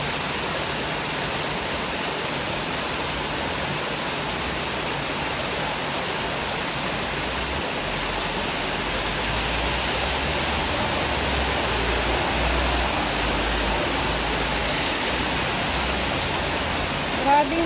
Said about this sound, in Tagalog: Ayan, ang lakas ng ulan na yan.